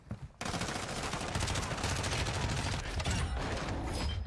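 Sustained automatic gunfire from the video game Call of Duty Warzone, loud and dense after a brief quiet start, with rapid bursts continuing without pause.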